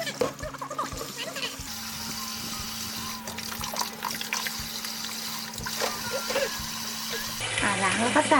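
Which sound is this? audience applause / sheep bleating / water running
water running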